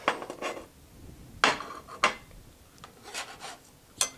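Garlic going into a pan while water heats nearby, heard as scattered light clinks and scrapes of metal cookware with a few sharper taps, moderately close, no talking.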